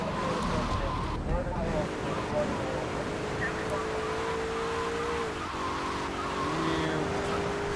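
A police car in GTA 3 roars along under continuous engine drone, its tires squealing in drawn-out skids as it speeds and turns, with someone talking over the game sounds.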